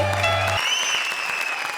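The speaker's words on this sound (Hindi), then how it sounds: "जोरदार तालियां रक्षांदा और रहमान के लिए" Applause from a comedy show studio audience, a loud, dense wash of clapping under a sustained low tone that cuts off early, with a faint rising whistle or cheer riding above.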